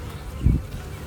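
Honeybees buzz around an open beehive during an inspection two weeks after installation. A brief, low, fairly faint hum swells for a moment over the quiet background.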